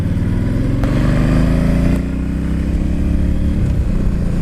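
Yamaha Stryker 1300 V-twin cruiser motorcycle engine running loud and close, a steady deep throb with a brief rise in revs partway through, no talking.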